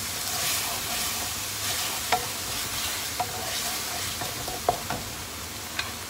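Glass noodles and shrimp stirred in a pan over high heat with a splash of soaking water, a steady close sizzle and hiss broken by several sharp scrapes and clinks of the utensil against the pan.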